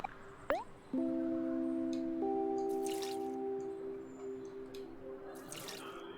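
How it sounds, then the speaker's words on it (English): Flowers being watered in the video game OMORI: a sharp drip, then sustained chiming water tones that hold and slowly fade, with faint splashes, alone and fairly close. "While we're here, I guess we should water the flowers."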